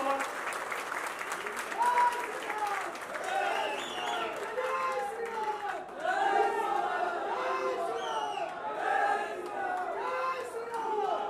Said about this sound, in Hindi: एक बार जोरदार तालियां बजती रहनी चाहिए